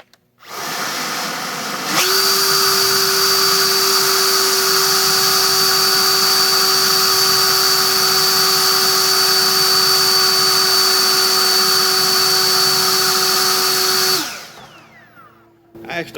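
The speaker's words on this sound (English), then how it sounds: "Let's just put this one on the repaired or the modified blower. See how it does with this one." A battery-powered EGO leaf blower fitted with a modified BLDC controller spins up and runs at a loud, steady whine with a rushing airflow roar for about twelve seconds, then winds down.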